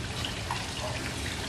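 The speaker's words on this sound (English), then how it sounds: "Just pour your little glass of 7-Up right in there" 7-Up soda pours into a small glass at a poolside cooler tray, a close, steady liquid gurgle and fizzing splash running continuously without talk.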